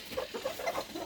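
A rooster clucks in a quick series of short, throaty notes at close range, several bursts in about a second with no talking over them.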